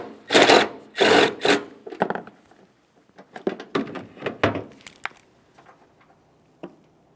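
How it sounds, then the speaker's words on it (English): Removing a 13mm headed mounting bolt by a 2002-2009 Chevrolet Trailblazer coolant reservoir: a few loud close ratcheting, whirring bursts early on, then scattered metallic clicks and clatters that trail off into quiet. "Remove the bolt."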